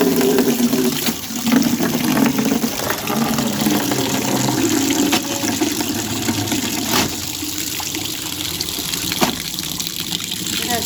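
Water gushes steadily from a tap into a sink while clothes are washed, a continuous loud splashing flow with occasional sloshing and knocks, with no one talking over it.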